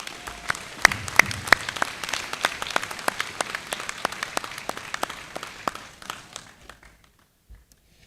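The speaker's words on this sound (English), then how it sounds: "please join me, graduates, in giving those people who've supported you along the way a round of applause" A graduation ceremony audience claps, a dense burst of applause that thins into scattered claps and fades to silence near the end.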